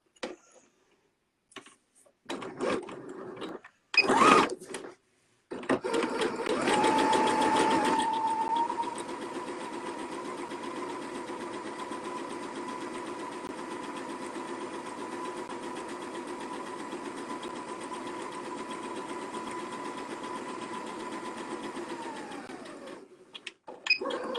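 A sewing machine runs a long, steady seam on fabric with an even mechanical hum, after a few brief handling knocks and short stitch bursts at the start.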